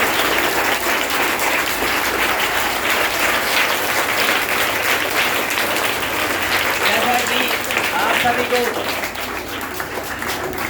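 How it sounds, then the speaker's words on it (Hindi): Schoolchildren applaud together to welcome a visiting dentist and his team at their school, a dense, steady wash of clapping that fills the whole stretch and eases slightly near the end, with a few voices mixed in. "पुनः एक बार सभी बच्चे तालियां बजाकर स्वागत करेंगे"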